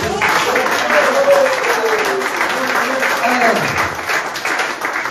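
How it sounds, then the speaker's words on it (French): A church congregation applauds and cheers in praise, a steady wash of clapping with voices mixed in, filling the room throughout. "nous allons acclamer encore pour la gloire de Dieu"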